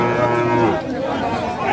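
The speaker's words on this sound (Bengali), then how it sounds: "সামনে একটি বপন গরু" A cow moos at a rural cattle market in Kakon Haat, Rajshahi, where a young local heifer is being sold; a long, loud, near bellow fills the clip against market crowd murmur.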